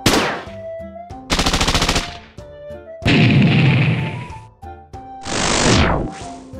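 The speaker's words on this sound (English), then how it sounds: "Censo, you dumped a lot of bullets on that creepy bitch" A video game firefight on a spaceship-themed game, with rapid machine-gun bursts, heavy single blasts and crashing impacts in quick succession, loud and close, with no talking.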